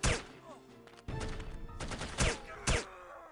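Gunfire in the No One Lives Forever video game, a few sharp, loud shots at irregular intervals over a steady game backdrop, with a brief shuffle of quieter effects between them.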